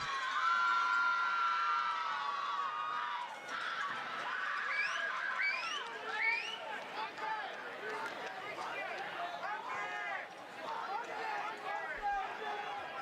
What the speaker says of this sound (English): Good crowd on hand here tonight.